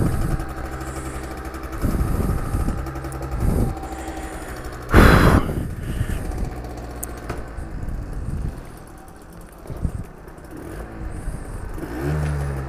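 A Yamaha DT LC 50 motorcycle's small engine idling, with a sharp rev burst in the middle and a steady, mid-loud running drone before and after.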